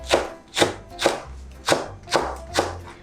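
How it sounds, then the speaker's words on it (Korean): A knife thinly slices Cheongyang chili peppers on a cutting board, six crisp, evenly spaced chops landing about every half second, close and clear with no talk. "청양 고추는 좀 얇게 썰어주세요."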